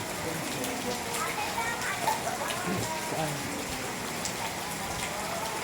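Steady light rain from Typhoon Carina patters continuously on surfaces, an even hiss with faint voices in the distance.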